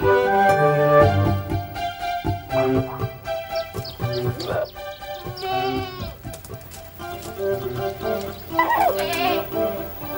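Stabled goats bleat repeatedly on La Palma in the Canary Islands, several animals calling close by in overlapping, wavering cries with brief gaps between them.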